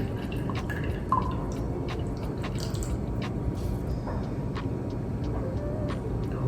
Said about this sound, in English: we're going to drain it so we won't have our onions and things inside of it.